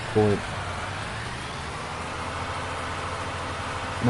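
Steady rain on the open farm fields at night during harvest in Farming Simulator 19, a constant even hiss running throughout, with a brief voice near the start.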